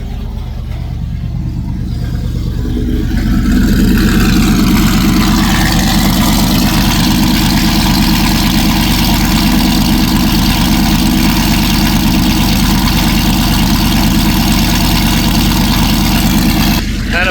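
A Lightning pickup truck with a new loud exhaust idles close by after starting up, settling into a deep, steady, rumbling drone that stays loud and even for the whole span.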